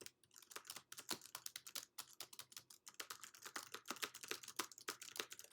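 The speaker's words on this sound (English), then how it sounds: "I'm going to start typing just some filler text" Fast, uneven typing on a computer keyboard while entering filler text in a word processor, crisp close key clicks in quick bursts with brief gaps, no talking.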